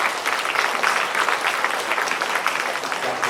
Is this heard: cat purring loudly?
no